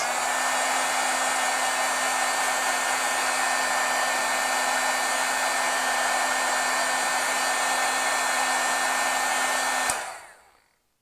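A heat tool blows hot air to set stamping ink on foil ornaments, a loud, steady whooshing roar that holds for about ten seconds and then cuts off and winds down.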